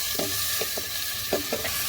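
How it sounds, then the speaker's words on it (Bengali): Spices frying with vegetables in a pan for chicken vegetable soup, a steady close sizzle broken by several scraping stirs of a spoon, no voices. "সবজিগুলো ভাজা হয়ে গেছে, এখন মশলাগুলো দিয়ে একটু ভেজে নিব।"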